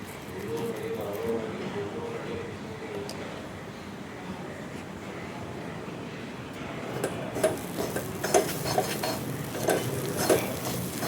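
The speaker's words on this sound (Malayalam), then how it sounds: "എന്നിട്ട് നന്നായിട്ട് ചിക്കി കൊടുത്തുകൊണ്ടേയിരിക്കണം, കൈയെടുക്കാതെ." Whole spices, including fennel seeds, stirred and fried in a pan for a Kerala prawn curry, with a low sizzle and a spoon scraping. The scraping grows busier and louder toward the end, with faint talk underneath.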